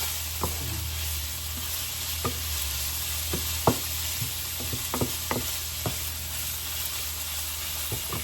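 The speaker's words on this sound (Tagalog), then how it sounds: "gisa lang natin itong pork. Gisa-gisa lang to guys." Pork sautéing in a pan for spicy laing, a steady close sizzle running throughout with scattered sharp clacks and scrapes of a utensil stirring the meat.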